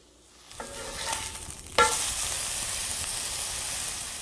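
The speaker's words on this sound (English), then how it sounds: "This skillet is still hot. We're going to go ahead and add our patties." Thin venison patties hit a hot skillet with a short clatter, then a loud, steady sizzle that holds without a break, with no voices.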